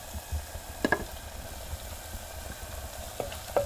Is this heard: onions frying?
yes